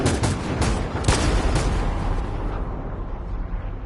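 Gunfire in the video game Detroit Become Human erupts as a volley of loud shots, several sharp cracks in quick succession at first, then fading into a rumbling, echoing tail.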